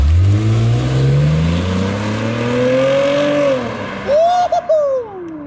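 A loud Lexus IS250 engine with an HKS Hi Power exhaust climbs in pitch, then stutters and pops in quick choppy bursts as it bounces off the two-step rev limiter.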